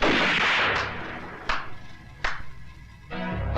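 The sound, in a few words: gunshots fired into the air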